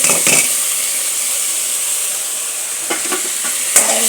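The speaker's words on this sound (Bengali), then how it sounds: "দিয়ে টমেটোগুলো লাড়াচাড়ি দিতেছি" Tomatoes, radish and winter vegetables with rice stirred in a pot for vegetable khichuri, a steady hissing sizzle broken by a few sharp knocks and scrapes of the spoon.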